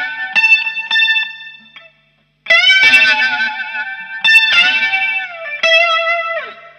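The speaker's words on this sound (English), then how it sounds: "Something of a distortion and delay, it's gonna sound huge" Sustained electric guitar notes with heavy distortion and echoing delay play a guitar solo in several loud phrases, separated by a brief pause, with no voices.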